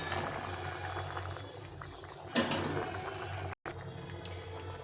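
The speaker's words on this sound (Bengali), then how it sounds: "ঝোলটা ভালো করে ফুটে গেছে।" Curry gravy with potatoes and chickpeas bubbles steadily in a pot, a soft, close simmering burble with a single louder pop and a brief break near the end.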